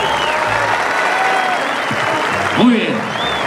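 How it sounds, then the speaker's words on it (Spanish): A crowd applauds a young bullfighter at a ranch arena in Tonatico, a steady wash of clapping under an announcer's voice, with whistles and shouts rising briefly near the end. "El aplauso que sea para él,"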